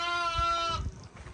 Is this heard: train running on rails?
no